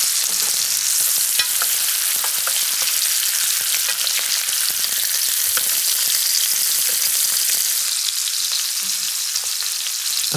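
Steak sears in a pan while being basted with garlic and thyme butter, giving a loud, continuous sizzle with crackling spatter and faint stirring scrapes, with no voices.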